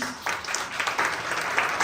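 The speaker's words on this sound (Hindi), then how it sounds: "ये लोगों के लिए तालियां मारो." Applause from a church congregation, a steady patter of many hands clapping together at close range, filling the brief moment without a pause.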